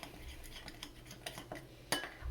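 Mayonnaise mixed with chilli sauce being stirred in a bowl, a series of faint, soft clinks and scrapes of a spoon against the dish, with one sharper knock near the end.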